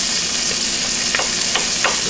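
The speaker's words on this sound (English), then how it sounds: "Oh man, you definitely hear the sizzling." Mixed vegetables sizzle in hot oil in a pan or wok, a steady close frying hiss with a few brief crackling pops rising above it, with no talk.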